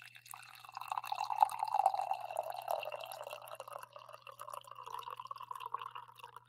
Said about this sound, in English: Nice, solid pour here in the morning.